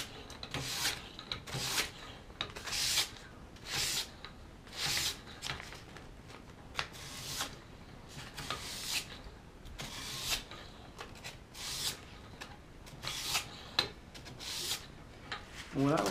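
A hunting knife edge is drawn repeatedly across a sharpening stone, giving steady rasping strokes with a regular back-and-forth rhythm, close and fairly quiet, with no talk.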